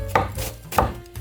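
Cabbage being finely shredded with a knife for salad: two distinct, close chopping thuds on a cutting board, spaced well apart.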